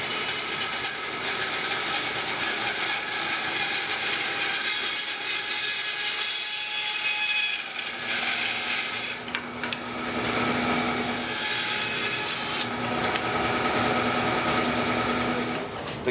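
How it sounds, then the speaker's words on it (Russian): A Felder FB 710 band saw cuts wooden inserts off a board, a continuous loud whining drone of blade through wood with shifts in pitch and intensity as the cut progresses, no voices. "гораздо проще эти вставки все отпилить на ленточной пиле"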